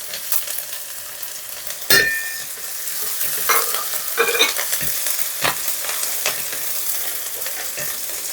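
Garlic and ginger frying in oil in a pan for chicken Manchurian, a close, steady sizzle with several sharp scrapes and clinks of a spatula stirring.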